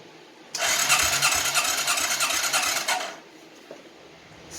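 The starter of a 1996 Suzuki Quad Runner 250 cranks the engine in a steady rhythmic churn for about two and a half seconds, close and loud, then cuts off without the engine catching.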